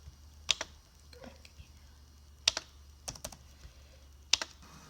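Keystrokes on a computer keyboard arrive in short, crisp clusters, a few quick taps at a time with pauses between, close and fairly quiet over a low steady hum while someone fills in an entry form.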